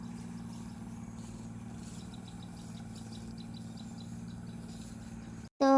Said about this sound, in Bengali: কারণ এখানে বোটের আওয়াজটা অনেক বেশি ছিল